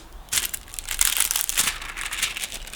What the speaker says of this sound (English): I'll pull the plastic bag so you can see it